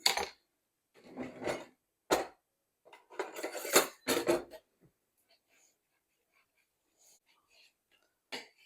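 Short bursts of a knife slicing and scraping on a board, several quick cuts then sparse faint taps, close by.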